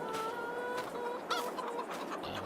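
Chickens cluck in Farming Simulator 22, on the Haut Beyleron map: a steady run of bright, overlapping clucks and squawks, fairly close and alone, with no talk over them.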